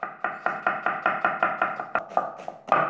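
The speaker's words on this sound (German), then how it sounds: "Dann schneide ich mir eine Zwiebel." A knife chops through an onion on a board, a steady run of about a dozen crisp, close taps at an even quick rhythm, then a few looser cuts at the end.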